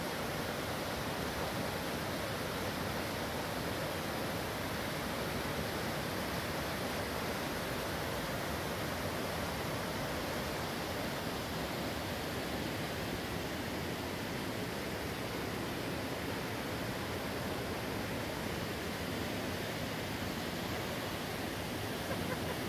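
Soča river rushing far below a tall bridge, a steady broadband wash of flowing water that stays even and unbroken from start to finish.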